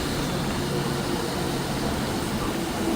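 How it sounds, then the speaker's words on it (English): City bus engine droning steadily from mid-cabin, a dense, constant low rumble with broadband hum and no distinct events, loud and continuous throughout. "we're in the middle of the bus, so we can hear the engine"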